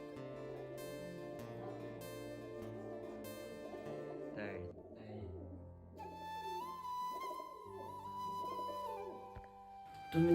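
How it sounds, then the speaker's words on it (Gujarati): Pigeons newly acquired and kept at home coo softly and repeatedly in the background, a low steady murmur with some tonal sounds and faint voices mixed in. "બાકી તમે કબૂતર જોઈ લો"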